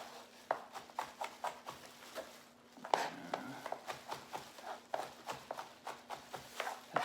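A knife chopping celery on a cutting board for chicken salad makes quick, regular taps in steady runs, fairly close and quiet, with a short pause midway before the rhythmic chopping resumes.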